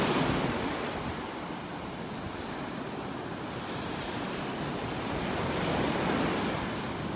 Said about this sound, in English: Let's walk up the beach.